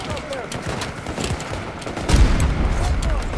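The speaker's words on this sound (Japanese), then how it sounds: "これは離れてバルカン砲でやっちまうか" Rapid Vulcan cannon fire in the video game Battlefield 2042: a dense, continuous roar of shots that swells louder partway through, with faint voices mixed in.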